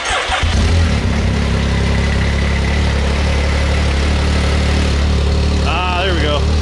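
A Can-Am X3 side-by-side engine with a freshly cleaned top end catches after cranking and settles into a loud, steady, close-up running drone that holds throughout.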